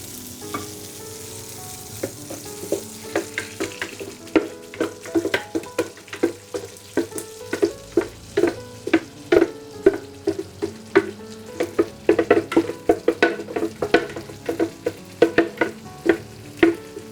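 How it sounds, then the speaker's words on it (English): Curry paste frying in ghee and oil on low to medium heat, with sharp crackling sizzles and repeated spoon scrapes and stirring taps, close and continuous, with no talking. "The paste, just gonna cook it inside the oil for a minute or so."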